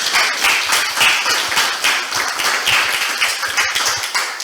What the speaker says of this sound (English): Let's give Colin a round of applause.